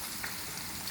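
Chicken pieces fry in hot oil until golden brown, a faint, steady sizzle with a few small pops, heard alone without any voices.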